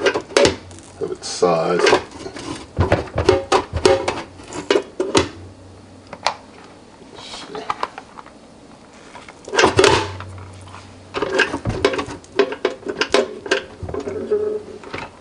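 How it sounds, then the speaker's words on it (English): A ramekin scrapes and clanks against the inside of a Ninja Speedi cooker pot in repeated short knocks and rattles of ceramic on metal, close by, with someone talking at one point. "It's kind of tough getting this ramekin out"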